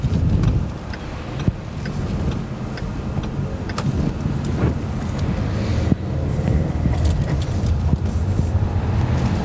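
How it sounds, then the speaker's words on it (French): A Ford Mustang driving on an open road, a loud, steady roar of engine and tyre noise with a constant rushing hiss and occasional sharp ticks. "Bon Patrick, on va voir cette voiture, comment elle se comporte sur route."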